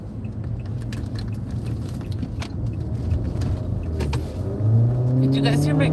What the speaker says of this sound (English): Did you guys hear my car when I go?